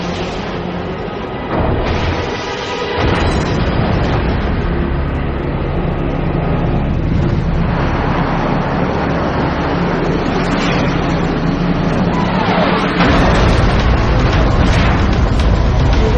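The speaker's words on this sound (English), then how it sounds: "Arwood's MiG disintegrates just behind Bartholomew" A MiG fighter jet blows apart in mid-air during an air battle, heard as a loud low boom and rumble over roaring jet noise that carries on and swells toward the end.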